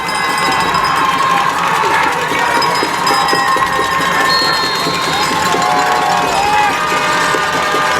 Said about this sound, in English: Both sides, crowds on both sides very active.